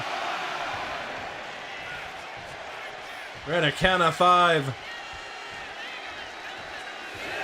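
A wrestling arena crowd from the WWE 2K26 video game keeps up a broad, steady roar throughout, with a commentator's voice cutting in briefly over it.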